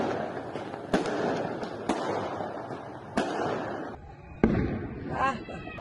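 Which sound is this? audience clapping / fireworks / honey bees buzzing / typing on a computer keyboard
fireworks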